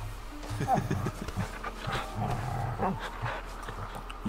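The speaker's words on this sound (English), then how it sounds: "Let me feed the dog." A dog pants while being fed in the Final Fantasy XVI video game, quick rhythmic breathy huffs with some low whimpering tones, close and fairly loud, alongside game sound.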